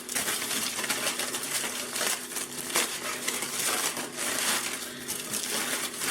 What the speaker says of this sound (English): Now I'm going to go ahead and unwrap it.